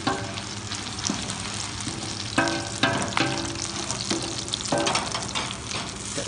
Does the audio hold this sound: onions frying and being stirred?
yes